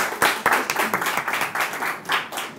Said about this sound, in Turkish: Can Kırıkları'na da buradan bir alkış gönderin